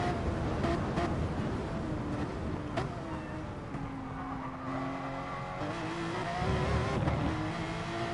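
Porsche 911 race car in a video game braking into Mulsanne Corner at La Sarthe, a loud steady engine drone that shifts pitch downward as it slows, then builds again near the end.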